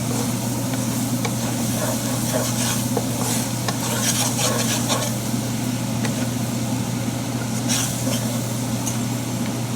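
Garlic sizzling in a pan over medium heat while it is stirred, a continuous crackling fry with scraping stirring strokes and a steady low hum underneath, no voices.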